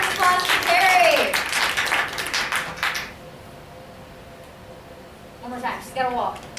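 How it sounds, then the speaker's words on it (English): Audience applause and cheering for a speaker at an impromptu speech contest, dense clapping for about three seconds that fades to quiet, with voices speaking near the start and again at the end. "Round of applause for Carrie."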